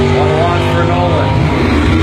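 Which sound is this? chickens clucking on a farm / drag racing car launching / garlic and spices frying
drag racing car launching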